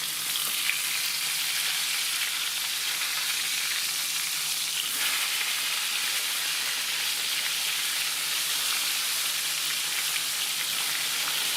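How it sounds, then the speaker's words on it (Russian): Crucian carp in mayonnaise frying in a pan give off a steady, even sizzle, a close, continuous hiss with no break throughout. "все жарим буквально там 3-4 минутки и будем переворачивать"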